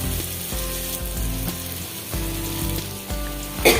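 Fish pieces shallow-fry in oil on a flat dosa pan, a steady sizzling hiss running under louder background music with a regular beat.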